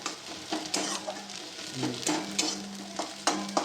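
Steady frying sizzle from chopped garlic in a hot pan with repeated scraping stirs every second or so, close and fairly loud, no talking.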